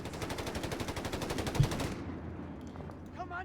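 A .30 cal machine gun in Company of Heroes 3 hammers out a long, rapid, evenly paced burst of shots for about two seconds, then stops abruptly and leaves faint background sounds.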